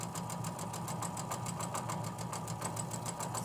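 A sewing machine running with its bobbin nearly out of thread, a fast, even mechanical rattle of needle strokes repeating steadily, close and fairly quiet, with no speech.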